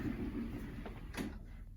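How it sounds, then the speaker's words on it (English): An IKEA Pax wardrobe door is pushed shut in a bedroom, giving a soft, quiet slide and a light knock. The sound is brief and muffled against low room noise. "I'll close this door here."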